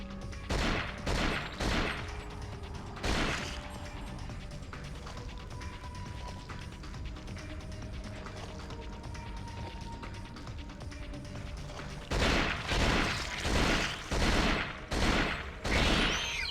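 Bursts of gunfire from the PS2 video game Cold Fear, rapid volleys clustered at the start and again near the end, with a steady low game ambience and mechanical hum in between; no talking.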